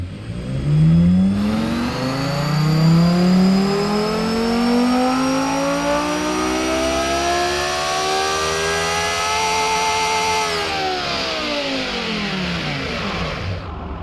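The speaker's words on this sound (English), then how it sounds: "Let's do a quick test pull at this point." A 2,500-horsepower van engine on a test pull in the Automation game, revving up from low in one long smooth rising sweep, peaking, then easing back down, loud and close with no talking.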